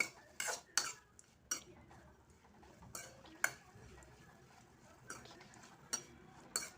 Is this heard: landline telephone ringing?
no